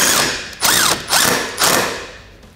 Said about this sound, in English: we're just gonna go ahead and get our self-tapping bolt started